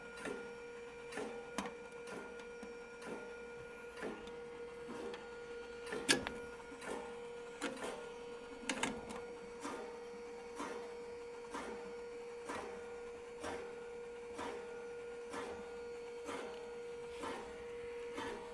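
A Skywalker V1 coffee roaster gives a rhythmic scraping tick about every half second over a steady mechanical hum, with a few louder knocks, fairly faint and without speech.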